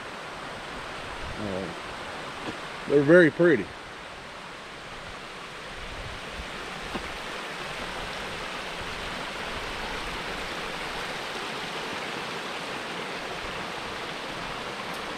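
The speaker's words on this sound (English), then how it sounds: "let you get a view of these waterfalls right here beside me" Waterfalls running right beside a snowy mountain road in mid January, a steady broadband rush of falling water filling the whole clip, with a voice speaking briefly over it near the start.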